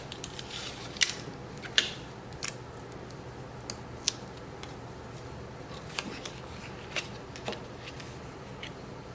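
Scissors snipping card for a handmade barn door fold card, close but quiet, a scattering of sharp single cuts at irregular intervals, no talking.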